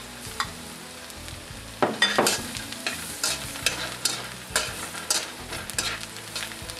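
Crushed garlic frying in annatto oil in a pan, sizzling under repeated stirring and scraping strokes, close and fairly loud, with no one speaking.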